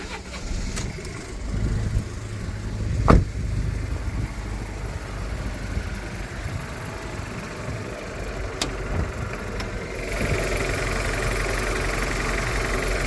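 A Fiat 500 TwinAir two-cylinder engine starts with a sharp crank and settles into a rough, uneven idle, fairly quiet and distant-sounding, with faint background noise throughout.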